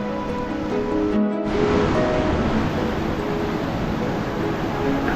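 The Lungnak river rushes through the remote Zanskar valley in the Himalayas, a loud, continuous broadband roar of flowing water with no voices.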